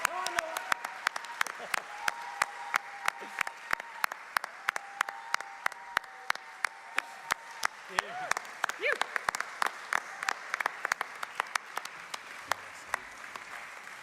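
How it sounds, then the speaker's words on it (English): Steady audience applause at a short film awards ceremony, with continuous dense clapping and sharp individual claps standing out. A held musical tone and brief voices sound underneath before the clapping thins toward the end. "We've got to keep that round of applause going all the way down to the front."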